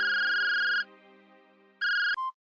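Mobile phone ringtone for an incoming call: a bright electronic melody rings loudly, pauses briefly, then sounds again and cuts off abruptly, clear and alone.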